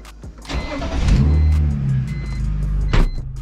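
A BMW E46 engine fires up and revs from inside the car, a loud close mechanical surge that holds and swells again near the end, with no talking.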